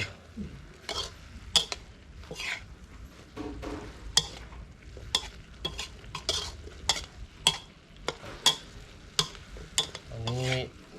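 Quail being stir-fried in a pan sizzles quietly while a utensil scrapes and knocks against the metal in repeated irregular strokes, with occasional louder clanks near the end.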